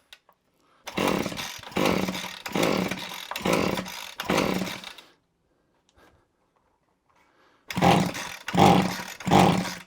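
A two-stroke strimmer engine that will not start being pulled over, with bursts of sputtering cranking in quick succession, a silent gap, then three more rasping bursts close by.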